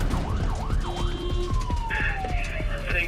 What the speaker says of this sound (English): paramedic teams responding lights and sirens to a drug